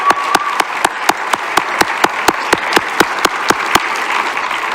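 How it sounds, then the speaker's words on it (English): An audience at a recovery court graduation ceremony applauds the graduates and speaker, with one close, loud clapper beating a sharp, even rhythm over the softer room-wide clapping. "I would just offer a round of applause to our graduates and our speaker."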